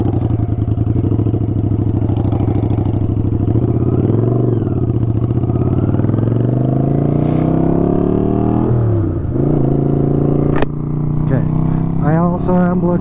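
A motorcycle engine idles close by, then revs and accelerates through rising gear changes as the bike pulls away, loud throughout, with brief clatter and a voice heard over the engine.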